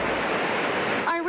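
Heavy, steady rush of floodwater pouring over the falls on Bushkill Creek in Easton after Hurricane Irene, a broad continuous roar filling the clip, with a brief voice surfacing near the end.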